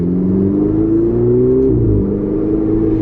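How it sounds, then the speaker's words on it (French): A Ferrari with a Capristo aftermarket exhaust, valves held open, drones low and throaty at about 30 km/h, its pitch rising gently then settling, loud and close with no voices. "En roulant à 30, elle fait déjà un super bruit grâce au Capristo"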